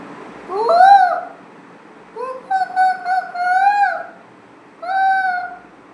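A human voice imitates a koel's call with three bursts of rising, wavering whistled-like notes, the middle one broken into several quick calls, loud and close against a quiet background.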